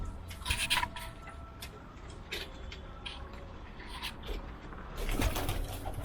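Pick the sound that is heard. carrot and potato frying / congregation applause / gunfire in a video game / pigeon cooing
pigeon cooing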